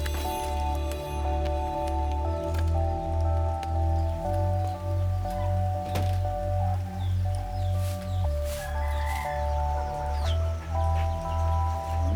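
Morning rain falls steadily in Baracoa, Cuba, a soft continuous patter on surfaces with scattered drips, mixed with a low droning hum and a few faint birds in the background.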